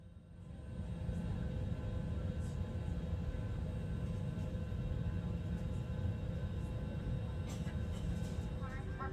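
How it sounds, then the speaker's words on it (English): An American Airlines A321-200 taxis toward the runway at New York JFK, its engines giving a steady, muffled low rumble heard from inside the cabin with little change in level. "Now we'll begin the long taxi to JFK's runway 13 left for our takeoff."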